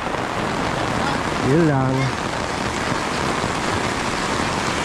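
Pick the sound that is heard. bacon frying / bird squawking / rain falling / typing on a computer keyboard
rain falling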